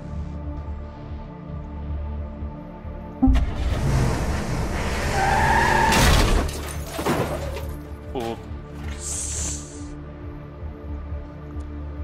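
A car in the video game Technobabylon drives off and skids, tires squealing loudly over a steady engine drone and background game music, with a voice talking over parts of it.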